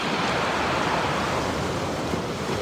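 Sea waves wash onto the shore beneath the white chalk cliffs of the Seven Sisters on the English coast, a continuous broad roar of surf mixed with wind noise, with no talk.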